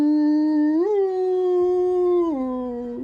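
A human voice imitates a creature's long, wavering howl as it goes down in a tabletop adventure game. The single sustained cry rises and dips in pitch, loud and close, for about three seconds.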